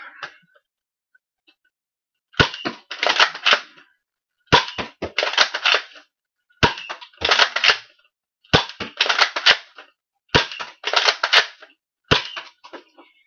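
Nerf Cyclone Shock toy blaster firing darts in six loud bursts, each a sharp crack followed by a rapid clattering rattle, separated by short pauses with no talk.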